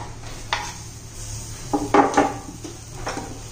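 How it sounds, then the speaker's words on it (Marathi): Tomatoes go into a pan of roasting besan and are stirred with a spatula, giving a few close scraping and clattering strokes over a low, steady background sizzle. "त्यात आपण आता टोमॅटो घालून घेऊया"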